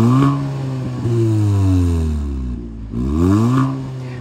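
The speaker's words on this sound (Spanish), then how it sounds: "no suena nada mal el motor de este Kia Ceed" A Kia Ceed GT with a 204 hp 1.6 four-cylinder engine runs loud and close, its note swelling and falling in two rev sweeps with a brief dip between, and no voices.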